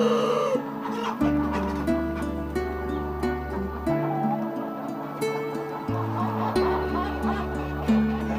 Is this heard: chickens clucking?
yes